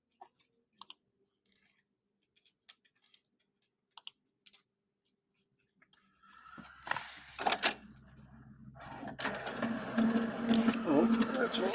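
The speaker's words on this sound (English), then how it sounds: "Come on, printer, don't break, printer, don't break." Scattered sharp clicks give way to a printer running, its steady mechanical whirring and rattling growing louder while people talk over it.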